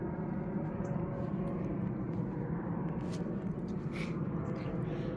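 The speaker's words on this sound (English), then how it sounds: "Sorry for the plane noise." A steady, broad low rumble of an aircraft passing overhead, constant throughout and moderately distant, with no voices.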